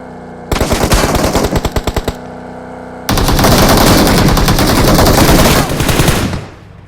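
Automatic gunfire in the mobile battle-royale game PUBG Mobile, loud and close: a stuttering burst of rapid shots, a short pause, then a long sustained volley that fades out at the end.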